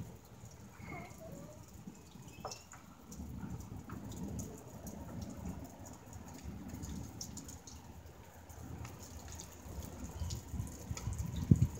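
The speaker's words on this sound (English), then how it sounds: "Like it's about to rain. Except you can hear the water." Rain falls steadily outdoors during a thunderstorm, with a low rumble of thunder swelling and fading beneath the patter and a few faint sounds near the start.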